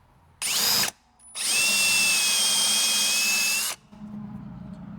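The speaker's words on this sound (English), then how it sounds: "let me drill this hole out to this size" A power drill bores out a hole on a 1966 Corvair, with a short whine burst followed by a longer, steady high-pitched drilling run, then a low hum after it stops; close and clear, no talking.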